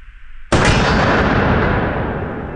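A single deafening gunshot from a T-Rex revolver, one sudden sharp blast at close range followed by a long, slowly fading roar of echo and reverberation.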